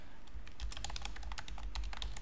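Rapid, close keystrokes on a computer keyboard form an even stream of crisp clicks with a low hum underneath, and no voices.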